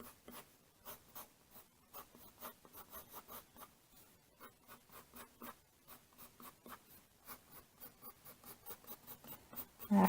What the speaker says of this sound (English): I'm just going to lightly shade the top a little darker.